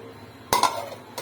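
A metal lid set down on a pot of simmering garlic kara kuzhambu with a short clatter and brief ringing, followed by a faint second tap.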